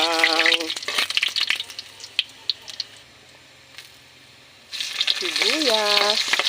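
Garlic sizzles and crackles as it sautés in a pan for adobo sa gata, with scattered stirring clicks. The sizzle thins to near quiet mid-way, then returns loudly as a voice speaks over it.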